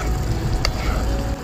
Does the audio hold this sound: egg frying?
yes